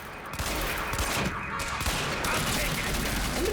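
Gunfire in the video game Quantum Break, a sustained volley of shots with a dense, continuous roar of noise throughout, played back under game audio.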